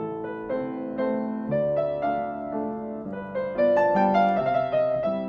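A well-known waltz played on solo piano, a clear melody over a lilting left-hand accompaniment in triple time, close and moderately loud with no speech.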